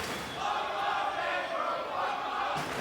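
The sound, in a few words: wrestling crowd cheering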